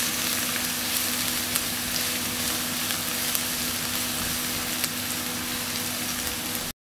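Garlic frying in olive oil in a pan while cooking a creamy bacon-wrapped pork tenderloin, giving a steady, dense sizzle that continues unbroken and close throughout, with no talking.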